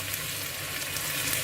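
Onion, potato and garlic frying in a pot for lentil soup, a steady close sizzle with no talking.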